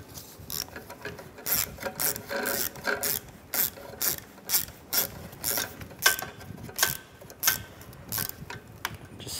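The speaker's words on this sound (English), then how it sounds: "Now we can put this bolt in to this bracket on the side and tighten that down." Ratchet tightening a bolt into a radiator side bracket on a 2011-2015 Chevrolet Cruze: rapid, close clicking in a steady rhythm of short strokes, continuing throughout without talk.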